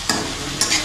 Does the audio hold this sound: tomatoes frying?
yes